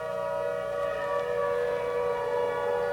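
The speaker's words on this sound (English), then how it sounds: "Walking home from the supermarket, Nigh hears the distant song of the fire siren." A steady wailing fire siren sounds from afar, mounted atop a red brick engine house, holding a sustained tone for the whole stretch with a faint background hum and no talking.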